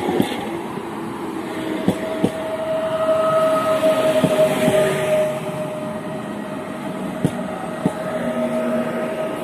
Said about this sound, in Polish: Wjeżdża pociąg Intercity Orzeszkowa relacji Białystok